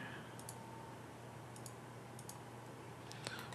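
Mouse clicks at a computer while working in PTC Creo CAD software, a handful of faint, sharp ticks scattered over a steady low hum, with a brighter click near the end.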